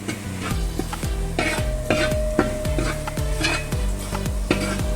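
Turmeric powder being stirred into a sizzling mixture for Kerala-style kappa and beef biriyani, with a steady run of metal spoon scrapes and clinks on the pot over a constant frying hiss, close and without talk.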